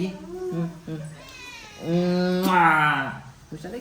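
A cat meows in a few drawn-out, wavering cries, close and fairly loud, with a longer rising-and-falling meow in the middle.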